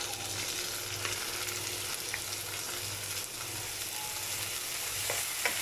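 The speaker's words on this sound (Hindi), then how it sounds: "थोड़ा सा इनको भी सौते करेंगे" Onions and tomatoes sauté in a pan for samosa chaat, with a constant close frying hiss and faint stirring underneath, and no voices.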